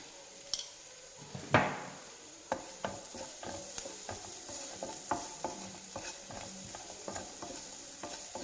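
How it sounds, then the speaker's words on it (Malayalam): Onion with turmeric and salt sautéed in a pan for a Kerala-style potato stir-fry: a spoon scrapes and knocks against the pan in irregular taps over a faint sizzle, fairly quiet and close, with no talking. "ഇതൊന്ന് രണ്ട് മിനിറ്റ് വഴറ്റി കൊടുക്കാം"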